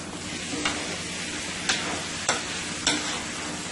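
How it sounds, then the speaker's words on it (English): Rice and black-eyed peas fry in a pot with a steady soft sizzle, broken by four brief scraping clacks as the mixture is stirred and tossed, no talking. "I'm going to let this fry for about an additional 3 minutes with the black-eyed peas."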